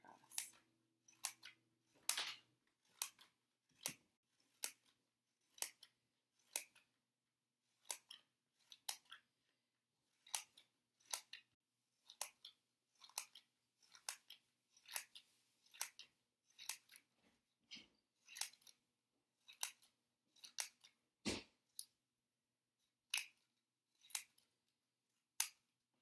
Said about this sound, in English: So we're going to cut nice, tiny little strips all the way across.